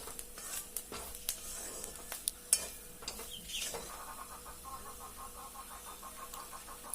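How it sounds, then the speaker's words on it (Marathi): Spices fry in oil in a pan for a village-style eggplant and potato curry, with a low sizzle broken by sharp scrapes and clinks of a spoon against the pan, heard close and fairly quiet. "पाच मिनटं परतून घ्यायची छान तेलामध्ये हे बघा मसाले छान परतत आलेत"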